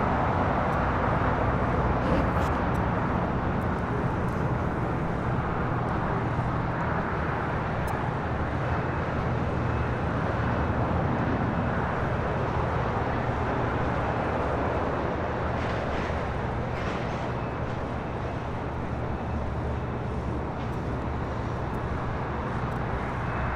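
A Southwest Airlines Boeing 737-800 takes off at LAX, its jet engines making a steady, loud, broad roar that holds for over twenty seconds, with faint traffic noise mixed in.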